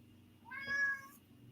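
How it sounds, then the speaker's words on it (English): A house cat gives a single short, rising meow indoors, moderately close, against a quiet background. "That's my cat, Mac."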